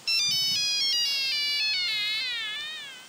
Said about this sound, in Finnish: Jaa, kukahan se soittaa?